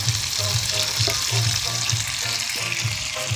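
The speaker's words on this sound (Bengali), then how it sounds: "মাংস বেশ ভালোই কষা হচ্ছে।" Meat frying together with diced fried potatoes for biryani, a steady close sizzle under rhythmic stirring scrapes, with no talking.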